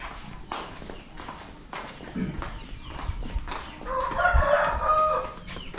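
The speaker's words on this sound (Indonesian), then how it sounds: "kita sudah mendengar ada suara-suara ayam berkokok" Several roosters crowing around the back of an abandoned house, repeated calls near and far, with a louder crow near the end and light background noise.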